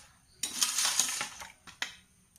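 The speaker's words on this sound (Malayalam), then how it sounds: "ഇങ്ങനെ ചെറുതായിട്ട് വീണ്ടും അരിഞ്ഞു കൊടുക്കുക." A knife chops finely through pumpkin leaves and flowers for a Kerala-style thoran, giving a close burst of quick crisp cuts on a board followed by two separate sharp chops.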